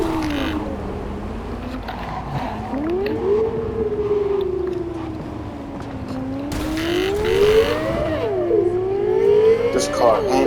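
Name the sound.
car driving in video game Cyberpunk 2077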